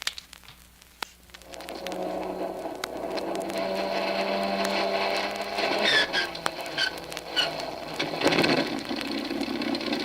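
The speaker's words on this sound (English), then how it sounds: "Here we go with engine number 1." Aircraft engine number 1 cranks and catches in an old radio drama effect, a rising mechanical whir that settles into a loud, steady roar with rattling overtones, heard alone without talk.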